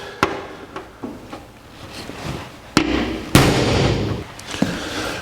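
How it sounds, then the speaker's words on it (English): Several sharp metallic strikes ring out at uneven intervals, a center punch being hammered into metal with a few heavier blows, close by in a workshop on a 1949 Chevrolet, with no talking. "And we'll center punch it."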